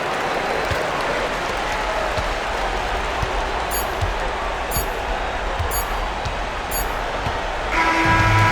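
Home crowd in an NBA 2K25 basketball video game cheering and applauding after a victory, a steady roar of broadband noise with a few sharp pops, growing slightly louder near the end.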